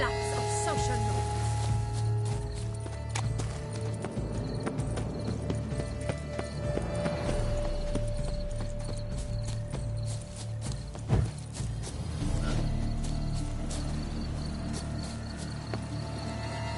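Horse hooves clip-clopping at a steady ridden gait in The Witcher 3: Blood and Wine, continuous and fairly close throughout, with game ambience and an occasional louder knock beneath.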